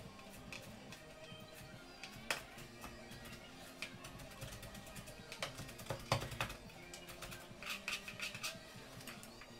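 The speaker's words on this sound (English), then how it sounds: "Now, finely dice a tomato." A knife finely dices a Roma tomato on a cutting board, producing a series of quiet, irregular tapping chops, some sharper than others, close by and without talk.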